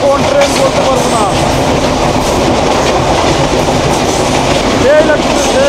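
A Bangladesh Railway express train rushing past close by with a loud continuous roar and rattling clatter of wheels on rails, plus brief wheel squeals.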